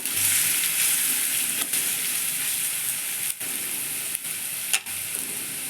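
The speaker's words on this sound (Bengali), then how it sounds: "আমি বাকি আলুটা যেটা ছিল সেটা এবার দিয়ে দেব। এটাকেও লাল লাল করে ভেজে নেব।" Potatoes fry in oil in a village kitchen, giving a loud, dense, continuous sizzle with a few brief stirring knocks.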